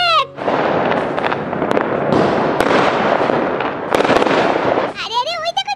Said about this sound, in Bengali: ওই দে বুনু, কত বাজি ফাটছে